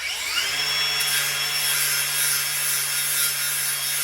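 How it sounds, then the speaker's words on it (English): A power tool grinds paint off metal before welding on a radiator cooling system, making a loud, continuous high-pitched abrasive whine with steady rubbing texture throughout, close up and alone. "I am just going to take a little bit of this paint off so I can have some clean surface to weld to."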